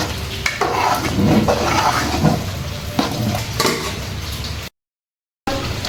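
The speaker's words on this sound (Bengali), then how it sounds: "আমি এটা ভালো করে মিশিয়ে নেড়ে নামিয়ে দেবো" Khichuri stirred in a pot after ghee is added, with a spoon scraping and knocking against the metal over a soft sizzle, close up, then a brief dropout of silence before the scraping resumes; no voices.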